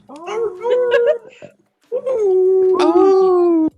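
A dog lets out tonal, wavering howls and whimpers, loud and close, in two drawn-out bursts separated by a short pause.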